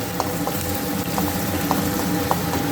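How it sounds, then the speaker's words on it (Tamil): Liquid simmers at a steady boil in a pot while Kumbakonam-style kadappa cooks, giving a continuous close bubbling texture with scattered soft pops and clicks throughout. "பாருங்கள் கொதிக்குது."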